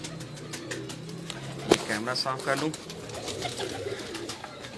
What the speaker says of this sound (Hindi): दोस्तों ये हैं मेरे जान सवाले कबूतर